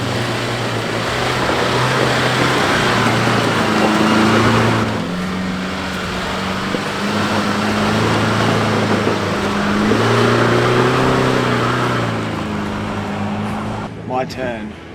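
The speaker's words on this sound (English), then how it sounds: "For this section of track, lockers proved to be the key to success, with both Paddy and Lucas making it up the" A 4WD vehicle climbs a difficult, rough off-road track with its engine droning loud and close. The engine pitch rises and falls as it labours along, with rattles and bumps over the track.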